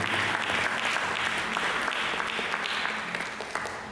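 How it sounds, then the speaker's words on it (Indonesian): A church congregation applauds during a sermon, a steady dense burst of clapping from many hands for a few seconds, fairly close and loud. "Mari kita berikan tepuk tangan."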